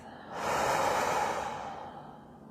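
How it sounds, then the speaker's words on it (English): A single long, deep exhale out through the mouth during a guided meditation, a soft breathy rush that swells quickly and fades slowly, close and alone. "And we'll deepen our breath. And exhaling out of the mouth."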